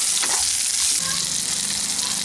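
A few grains of sugar dropped into hot oil for chilli paneer, giving a loud, close, continuous sizzle and crackle that lasts the whole short moment.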